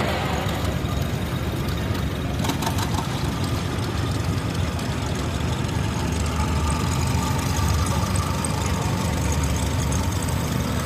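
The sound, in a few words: 1930 John Deere A tractor engine in parade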